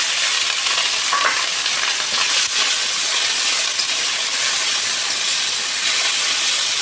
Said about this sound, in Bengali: আমার বাড়িতে ফোড়নের ওপর পেঁয়াজ বাটাটা দিয়ে দিলাম